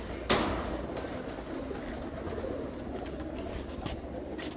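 A champion female pigeon from Hafizabad, called Churi, coos softly and close by against a quiet background, with one sharp knock early on.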